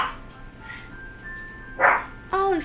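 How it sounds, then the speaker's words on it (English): A dog barks indoors at home: a short sharp burst, then a higher whining bark, heard over a quiet room tone. "Oh, excuse my dog barking."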